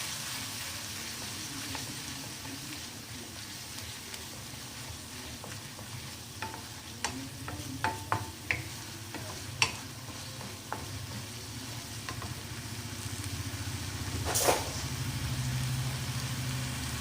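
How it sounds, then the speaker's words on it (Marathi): Garlic-ginger paste sautés in a pan for an okra and onion fry, a steady low sizzle with scattered clicks and scrapes of stirring, one louder clatter near the end, no voices. "आता त्यामध्ये 1 चम्मच लसूण अद्रक पेस्ट टाकायची आणि ते सुद्धा परतून घ्यायचं."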